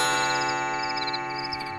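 Clock striking two at night in a quiet house, a single resonant metallic chime ringing and slowly decaying, close and clear, in a Bengali radio drama.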